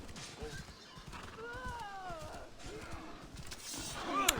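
A frightened horse neighs in a video game, a rising then falling whinny with layered harmonics at moderate volume over muffled game noise and hoofbeats, ending with a short sharp click.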